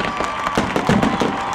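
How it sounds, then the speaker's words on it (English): A fireworks display at the Tuscaloosa County Night of Fright bursts and crackles continuously, with dense, overlapping pops and booms at a steady, fairly loud level. "Cairo Productions for tonight's fireworks display"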